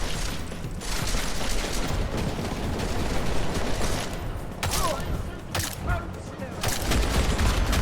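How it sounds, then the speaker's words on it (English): Video game gunfire rattles on continuously as dense, loud overlapping bursts, with a few sharper shots standing out, while a person talks over it. "they're all just wildly firing at this point"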